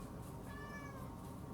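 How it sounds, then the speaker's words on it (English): A cat meows indoors in a single rising-and-falling call, fairly close and moderately loud over a low steady background hum, with no talking. "And that is a cat."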